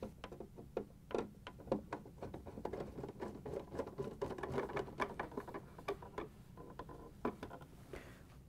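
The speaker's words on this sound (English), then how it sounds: "we can use the quarter inch nut driver to put all the screws in" A quarter-inch nut driver works screws into the plastic container of a Whirlpool/KitchenAid/Maytag ice auger, producing a quick, faint, irregular patter of ticks and clicks across the clip; no talking.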